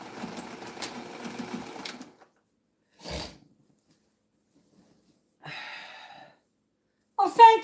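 Sewing machine stitching a quilt runs steadily for about two seconds, followed by short separate bursts of handling noise and a brief voice near the end.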